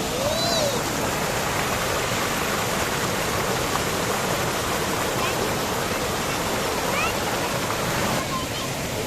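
Heavy stream water rushing steadily on Mt. Lorokan, a dense, unbroken wash of flowing water heard close and loud throughout, with faint speech mixed in.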